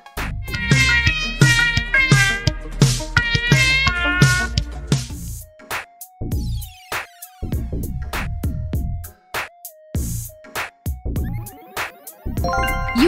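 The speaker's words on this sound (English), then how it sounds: "It's Mallow Cat." A cartoonish meme cat meows repeatedly and loudly in a sung, rhythmic pattern, followed by plucky musical notes and more bursts of meowing.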